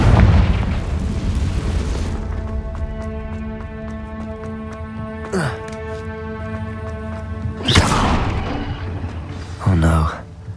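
Loud blasts from the Confringo fire spell in Hogwarts Legacy: a heavy boom at the start, then several sharper bursts spaced a few seconds apart, all over steady orchestral game music.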